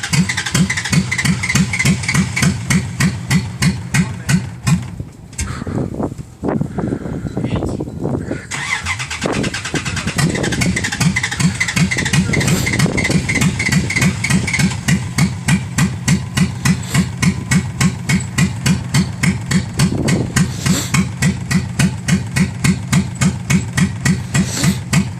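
A carbureted Dodge Ram pickup engine is forced through a cold hard start: a steady rhythmic cranking chug, a brief stumble and pause, then cranking resumes loud and close, with a sputtering, uneven catch.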